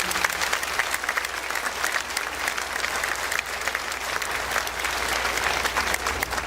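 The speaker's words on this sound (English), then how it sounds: "So let's have a round of applause for Mr." Steady applause from an elementary school spring band concert audience, a dense wash of many hands clapping that holds at an even level for the whole stretch.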